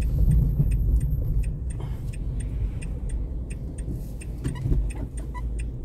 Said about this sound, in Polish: Czekaj, niech ta BM-ka wyjedzie.